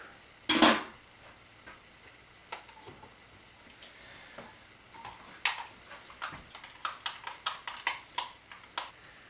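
A spoon stirs curry sauce in a pot for a Fiji-Indian curry, giving faint, irregular metallic clinks and scrapes that quicken into a steady run of light taps.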